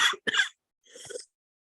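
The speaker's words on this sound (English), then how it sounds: "Hang on, I'm about to cough." A person coughs during a talk on voice and public speaking: two quick close coughs in succession, then a rougher, longer throat-clearing hack after a brief pause.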